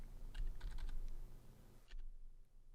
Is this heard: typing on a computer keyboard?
yes